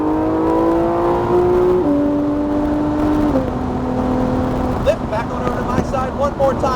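Race car at full throttle on the Nelson Ledges Raceway track, engine note climbing steadily through gears with shift drops, loud and close from inside the car, followed by lifting and brief throttle blips.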